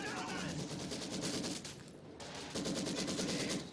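Rapid machine-gun fire in a Company of Heroes 2 battle, sustained bursts of dense crackling shots with a brief lull near the middle before the firing resumes, loud and close.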